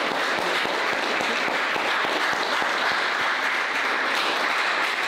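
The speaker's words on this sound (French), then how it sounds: "Alors, on va juste applaudir nos intervenants." Steady applause from an audience honouring youth party speakers after a debate on immigration, many hands clapping evenly in a dense, sustained wash heard from within the room.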